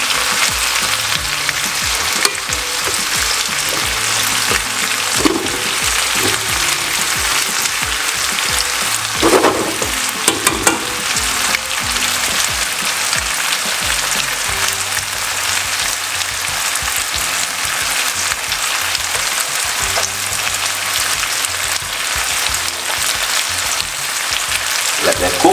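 Vegetables fry in a pan with a continuous crackling sizzle, interrupted now and then by the scrape and clatter of stirring, with no voices.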